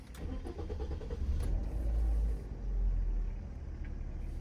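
A 2006 Toyota Corolla 1.6 engine cranks for a moment, then catches and settles into a low, steady rumbling idle, close by.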